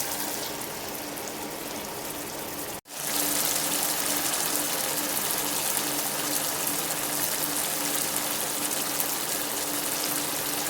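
Water added a little at a time to masala frying in a pan for egg karahi curry gives a loud, steady hissing gush that cuts out briefly near the start, then resumes and holds evenly throughout.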